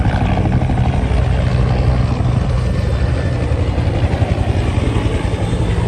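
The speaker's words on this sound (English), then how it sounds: "3 helicopters." Three helicopters thump overhead in Washington, DC, with a loud, steady rotor drone that pulses without a break.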